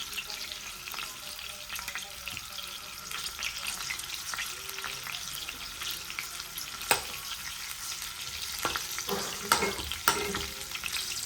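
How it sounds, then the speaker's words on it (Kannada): Finely chopped onions frying in oil for a hotel-style spicy egg curry, a steady crackling sizzle with occasional stirring scrapes that cluster more toward the end, moderately loud, no talking. "ನೋಡಿ, ಫ್ರೈ ಆಗ್ತಾ ಇದೆ"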